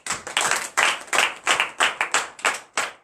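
Congregation clapping in acclamation during a morning prayer service, loud rhythmic bursts of hand claps in regular pulses with no talk over them.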